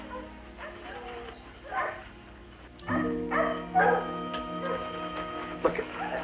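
A dog yips, whimpers and barks in short bursts, fairly close, mixed with background voices and ambient noise.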